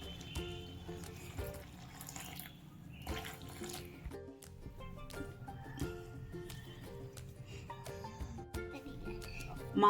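Hot water is poured and mixed into murukku flour with asafoetida and sesame, giving soft, close-up splashing and trickling with scattered clinks and small knocks, fairly quiet throughout.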